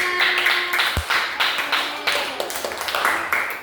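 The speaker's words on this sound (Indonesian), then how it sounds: "Kasih tepuk tangan." A class of students claps their hands in a classroom, a burst of close, uneven clapping with several sharp individual claps mixed in and some voices under it.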